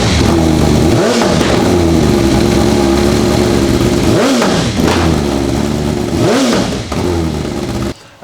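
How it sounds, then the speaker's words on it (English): BMW M1000R motorcycle fitted with a full titanium Evolution exhaust system, revving loudly and up close, with three sharp throttle blips rising out of a steady rumbling idle before the engine cuts off at the end. "we've put the full titanium Evolution 421 system on the bike."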